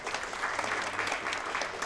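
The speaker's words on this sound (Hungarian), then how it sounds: "A Taps az új 198. évadnak szólt." Theatre audience applauding steadily at the season-opening gathering of the Miskolc National Theatre company, a dense continuous patter of many hands clapping throughout, with no talk.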